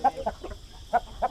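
Country chickens (naatu kodi) on a farm near Vijayawada give several short, nasal clucks close by, in two small bursts separated by a brief pause, over a faint background hum.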